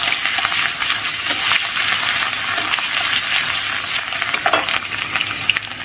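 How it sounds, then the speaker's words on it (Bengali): Garlic paste fries loudly and steadily in mustard oil with cardamom, cinnamon and bay leaves over a low flame, a dense, close sizzle with faint stirring clinks. "এর মধ্যে রসুন বাটা আমি 2 চামচের মতন দিচ্ছি, দিয়ে একটু ভালো করে কষে নেব।"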